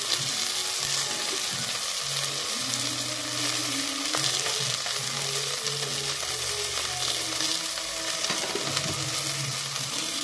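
Okra (ladies finger) sautéing with salt in a pan, a steady loud sizzle with occasional stirring scrapes and soft knocks, close and continuous without speech.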